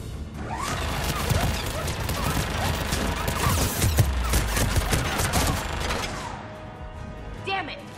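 Turret gunfire in Mass Effect 3: repeated bursts of shots and impact crashes over a busy combat din, with voices mixed in.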